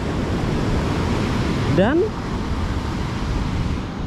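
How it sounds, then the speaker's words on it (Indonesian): Big southern-coast surf at Seruni beach, Donorojo, Pacitan, Java, a constant loud roar of crashing waves with wind across the microphone, briefly overlaid by a short spoken word. "dengan ombak pantai selatan yang cukup dahsyat, cukup besar di sini ombaknya"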